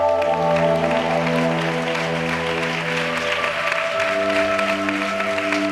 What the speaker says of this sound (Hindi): जिसका यीशु जिंदा है ताली बजा के हालेलुया करें